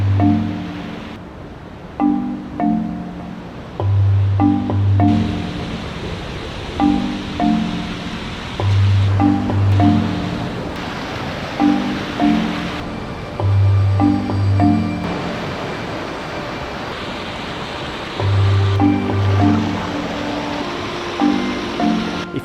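A rushing river in the Costa Rican rainforest flows over slippery, moss-covered stones on the way to Chindama Waterfall, a steady broad roar of water running under a looping musical backing.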